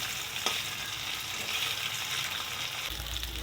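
Paneer fries in hot oil in a wok, giving a steady close sizzle with light stirring over a few seconds and no voices.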